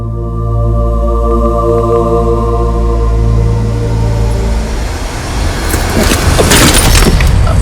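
A car engine hums steadily on a roadway, then the tone breaks into rougher rumbling and rustling as the vehicle slows and comes to a stop, loud and close throughout.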